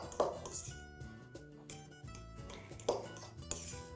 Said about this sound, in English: And I'm just going to use my fork to get this stirred together.